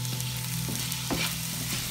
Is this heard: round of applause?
no